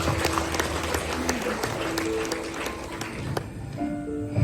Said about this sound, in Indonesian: Tepuk tangan lu buat Dr. Andika.